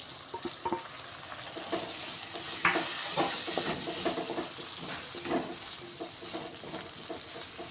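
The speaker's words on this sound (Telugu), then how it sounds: "ఒక 2 టమాటాలు కట్ చేసి పెట్టుకున్నా. ఇప్పుడు ఇవి కూడా వేసేసుకుంటున్నాను." Chopped tomatoes hit hot oil with frying ginger-garlic masala in a pan, giving a steady, close sizzle with scraping stirring strokes throughout and no talking.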